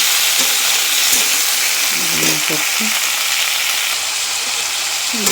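Cut potatoes and amaranth stalks fry in a pan with a continuous loud sizzle. A spoon scrapes and stirs them in irregular knocks, and one short spoken word comes in briefly.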